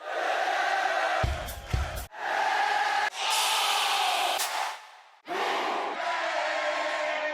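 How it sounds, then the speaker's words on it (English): Crowd noise sound effect from the Splice library, loud cheering and roaring in several abrupt cut segments with short gaps between them. "From these crowd noises, it's a little bit too, it needs to be like a big stadium, like this."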